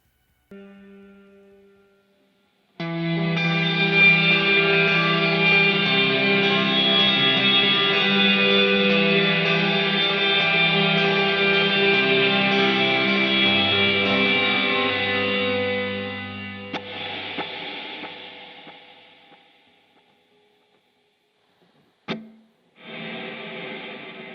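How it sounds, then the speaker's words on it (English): A sustained electric guitar chord blooms into a wide wash of echoing repeats and lingering reverb from delay and reverb pedals run in parallel, then fades before a brief picked note rings out. "a delay sending only its repeats, a reverb sending only the reverb or decay"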